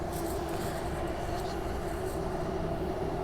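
An MTR Kwun Tong Line C-Train runs automatically, giving a steady, continuous rolling hum and rumble with a few faint high squeals and no distinct breaks.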